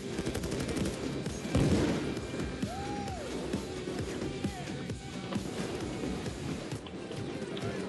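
Dense gunfire in the Payday 2 heist game, sustained bursts and volleys crackling across the whole stretch with a heavy burst near the start, loud and continuous.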